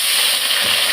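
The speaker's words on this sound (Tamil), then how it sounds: "கீரையை நான் வதக்கிக்கிடுறேன்" Mixed greens sauté in a little oil, a brief, loud and close burst of steady sizzling hiss with a soft stirring rustle near the end.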